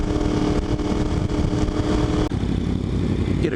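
A Kawasaki ZX RR 1000 engine runs loud and close, holding a steady, dense, rumbling drone throughout, with a brief dip partway before settling into a slightly lower, even tone.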